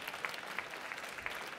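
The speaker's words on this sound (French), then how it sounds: "on l'applaudit bien fort" Audience at a French barista competition gives a short, steady round of applause, a dense wash of clapping with a few brighter individual claps, moderately distant and alone without talk.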